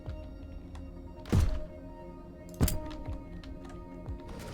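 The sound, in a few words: shotgun thrown and hitting in Heat Signature video game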